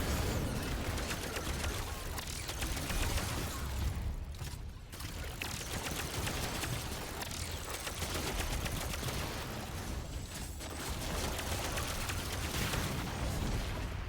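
Rapid automatic weapon fire in Destiny 2 rattles on almost without pause for the whole stretch, a dense, steady stream of shots with only a brief dip partway through.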